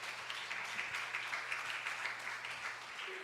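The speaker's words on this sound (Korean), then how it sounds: "우리 박수로 한번 같이 환영합시다" Soft, distant applause from a church audience welcoming a speaker, a steady even patter of many hands that carries on for a few seconds with a low hum underneath.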